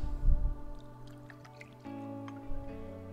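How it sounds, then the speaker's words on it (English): Espresso poured into a cocktail shaker packed with ice, giving soft drips and splashes over a steady background hum, with a louder pour at the start and brief bursts later. "Once your shaker is filled with ice, we're gonna add 3 ounces of espresso"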